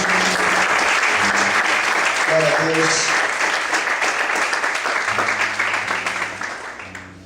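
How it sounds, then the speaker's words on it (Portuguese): A church congregation claps loudly and steadily, a dense wash of applause that slowly fades, while a voice speaks over it and music plays underneath. "Você pode desocupar sua mão, aplaudir o Senhor bem forte."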